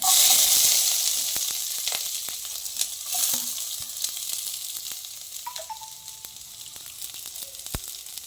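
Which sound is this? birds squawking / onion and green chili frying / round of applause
onion and green chili frying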